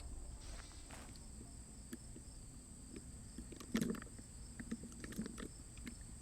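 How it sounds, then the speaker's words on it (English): Steady high-pitched chirping of crickets in the video game The Planet Crafter fills the background continuously, with a few faint footstep-like thumps and soft clicks near the middle. "Sounds like crickets. Do you hear crickets?"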